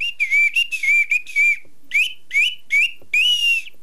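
A whistle, played as a traditional Indigenous instrument, sounds in a run of short, bright, piercing toots, about ten blasts in quick rhythmic groups with brief gaps, close and loud with no talk.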